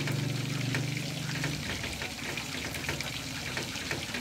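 Chicken katsu steak frying in hot oil gives a steady close sizzle with small scattered pops and spatters, continuous throughout and with no voices.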